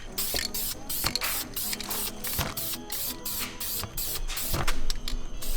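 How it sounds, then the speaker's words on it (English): Primer sprayed from an aerosol can onto a Camaro's brake calipers in quick repeated bursts, each a sharp close hiss with short gaps between, building to a rapid rhythmic pattern with no talking. "I'm gonna hit it with some primer, 50-50 overlap"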